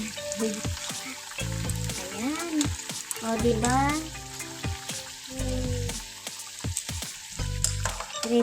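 Food sizzles and crackles in a hot pan at close range, with occasional stirring, while someone talks and a voice chimes in.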